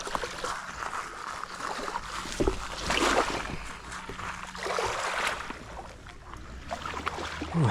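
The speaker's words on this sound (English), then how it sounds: "You can't really hear me with the waves in the background" Waves wash and splash around an angler standing in open water, with surging, uneven swells rising and falling close by and only faint traces of voice.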